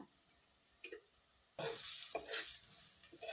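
Malvani garam masala, about two spoonfuls, hitting hot oil in a pan, a sudden loud sizzle bursting in partway through with stirring scrapes after a quiet start.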